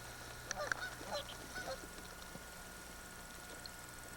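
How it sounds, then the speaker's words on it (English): Canada geese, flightless, honking while a wolf chases them in the Arctic, several faint, distant honks clustered early then thinning out over a quiet outdoor background hiss. "Wolf chasing Canada geese,"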